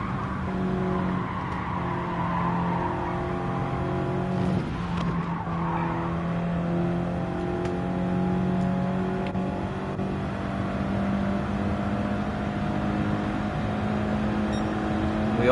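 Race car engine in Gran Turismo 7 holds a steady droning note throughout, with a sharp tire skid and squeal breaking in around the middle, then the motor keeps humming on at a constant, fairly loud level.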